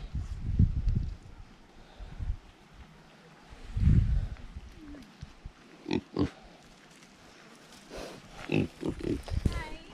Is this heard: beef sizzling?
no